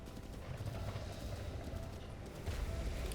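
Hooves clip-clop steadily from a horse trotting in The Legend of Zelda: Breath of the Wild, a quiet rhythmic patter over low rumbling game ambience, growing slightly louder near the end.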